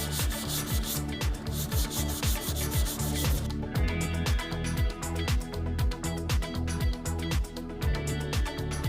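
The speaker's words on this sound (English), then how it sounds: "now let's hit it with a little 320. Sand out those 180 grit scratches." A car bumper being sanded by hand with 320 grit sandpaper during a paint and body repair, a loud, close, rhythmic rasping of quick back-and-forth strokes that continues throughout.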